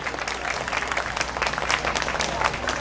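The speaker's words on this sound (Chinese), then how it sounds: "掌声鼓励鼓励" An audience applauds a children's string orchestra at an outdoor performance in Yongkang Park, the clapping steady and moderately distant, with a voice talking over it.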